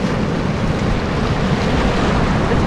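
Rough sea waves break steadily on a rocky Welsh shore of worn stones, a loud continuous roar and wash with wind buffeting the microphone.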